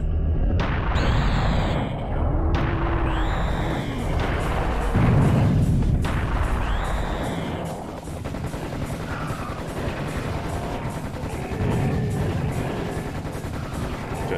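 Cannon fire and battle noise in the video game Serious Sam: The First Encounter, with heavy booming blasts and rattling gunfire layered over a dense, continuous roar of game sound effects, loud throughout.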